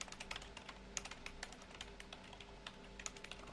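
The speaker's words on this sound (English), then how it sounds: "my typing is messed up here" Fingers typing on a computer keyboard, a quick irregular run of light clicking keystrokes heard up close and fairly quiet, with no talk.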